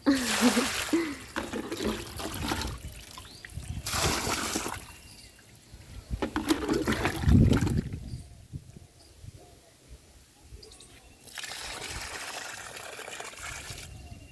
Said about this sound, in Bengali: এখন আমি গাছে পানি দিচ্ছি